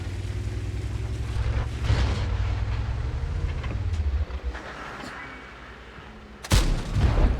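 Tank cannon fire in a video game, including a HESH round, comes as a loud, sharp blast near the end, after rumbling engine and battle noise. Faint talk runs underneath.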